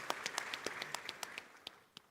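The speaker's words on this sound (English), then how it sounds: "Please give him a round of applause." Faint, scattered hand claps from a small audience at the 30th Afreximbank Annual Meetings in 2023, irregular and thinning out over about two seconds.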